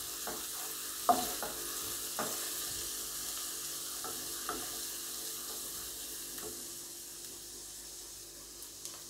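Shredded cabbage and carrot stir-fry in a pan with a soft, steady sizzle, punctuated by occasional light scrapes and taps of a spoon stirring at a moderate distance.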